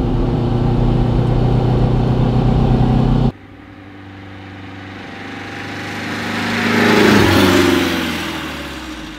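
A 1958 Porsche 356 A race car, 135 PS, drives with a loud, raspy engine that cuts abruptly, then swells again as it accelerates and revs up before easing off slightly.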